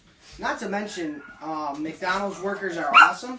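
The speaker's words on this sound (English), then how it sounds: "That's my dog. She's in here with us." Small pet dog Layla whimpering and giving short yips indoors during a podcast recording, her high whines weaving under a person talking close by.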